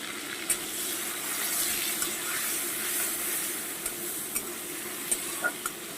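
Shrimp seasoned with salt and turmeric fry in a pan with a steady, close sizzle and occasional sharp pops and stirring sounds. No one speaks.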